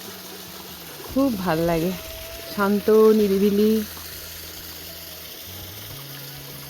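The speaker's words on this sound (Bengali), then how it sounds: "ছোট ছোট পাহাড়ি ঝর্ণার আওয়াজ" A small hill stream flows in a quiet spot, its steady, soft rushing a constant bed beneath a person speaking in the middle of the moment.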